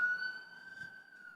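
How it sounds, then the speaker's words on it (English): Emergency vehicle siren wailing outside in South Central, a steady high tone heard from a distance indoors, fairly faint, with no talk over it. "So many sirens."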